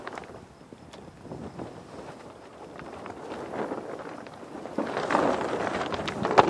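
Gusty wind blows across an outdoor vegetable garden planted with artichokes, courgettes and beetroot. It gives a soft, fluctuating rumble that rises toward the end, with faint rustling and thumps nearby.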